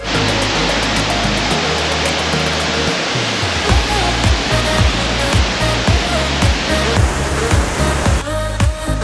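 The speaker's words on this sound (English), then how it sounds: "This was Aling Aling waterfall." Steady, loud rushing roar of Aling Aling waterfall in northern Bali fills the whole stretch, constant and close, with no voices.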